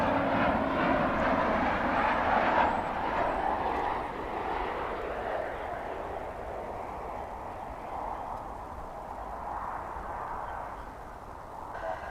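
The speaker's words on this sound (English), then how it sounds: "That's coming in from Indianapolis, flight 1506, a Boeing 737-800." American Airlines Boeing 737-800 jet arriving at DFW Airport, a steady loud engine roar that slowly fades and lowers in pitch as the plane passes, heard alone without talk.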